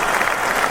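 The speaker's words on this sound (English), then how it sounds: "We're going to give them the super applause." Studio applause played on a morning radio show at WDJY 99.1 FM in Atlanta, a brief, steady burst of crowd clapping under a fraction of a second, even and full with no voices over it.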